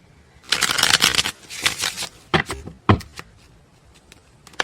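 A deck of tarot cards is shuffled by hand, a burst of riffling and flicking followed by several separate slaps and snaps as cards are squared and cut, close and clear with no talking.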